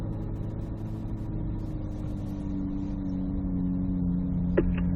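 A C8 Corvette Z06 on an autocross course, its engine a steady mid-pitched drone that builds slowly in loudness as the car accelerates, heard from a distance with no talking.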